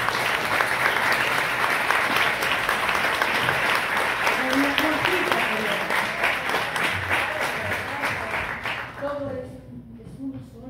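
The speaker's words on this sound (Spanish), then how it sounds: "Otro aplauso, sí, para los músicos." Theatre audience applauding live musicians at a season-closing show, dense sustained clapping that fills about nine seconds before tapering off, with a few voices and scattered claps as it dies down.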